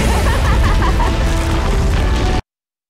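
A deep, loud explosion rumbles as the Dire's Ancient is destroyed in Dota 2, a dense crashing roar lasting a couple of seconds before cutting off abruptly into silence.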